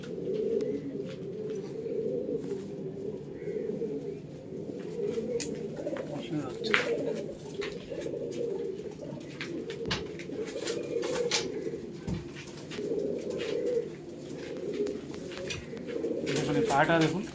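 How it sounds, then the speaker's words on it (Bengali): Domestic breeding white pigeons cooing: soft, low, repeated coos that roll on steadily at a modest volume, with a few faint chirps and small knocks in between. "সাদা পায়রা, আরও এক জোড়া"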